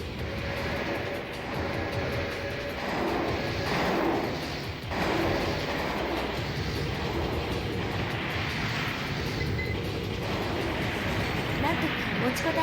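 Rocket fire from a mech in the PlayStation game Armored Core, a dense roaring rumble of launches and mechanical whirring that surges and dips for several seconds under a voice.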